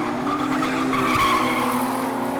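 A car drifts at a car show, its tires squealing loudly and continuously over a droning engine, heard fairly close throughout.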